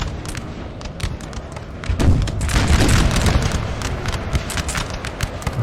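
Howitzer artillery fire in the Napoleonic Total War 3 mod rumbles as a continuous, loud stream of heavy booms and crackling shots, swelling midway before easing slightly.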